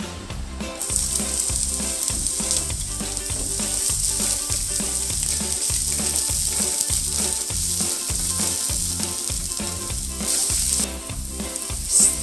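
Onion and garlic frying in hot oil in a pan for pork steak, a steady loud sizzle running throughout, with rhythmic scraping of a utensil stirring against the pan.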